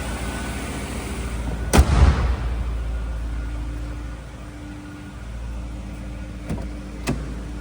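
A 2001 BMW 740iL E38 engine runs with a steady low rumble, loud and close, broken by a sharp bang early on and a couple of brief clicks later.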